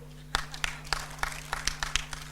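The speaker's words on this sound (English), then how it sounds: "So they also deserve a major clap from all of us" Sparse clapping from an audience at a business investment forum in Uganda, about a dozen scattered, uneven claps over a steady electrical hum, with no speech.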